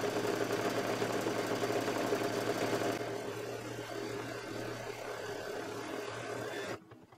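An embroidery machine sews a tack-down stitch for appliqué, a steady mechanical whir with fast needle pulsing that eases slightly partway through and stops near the end.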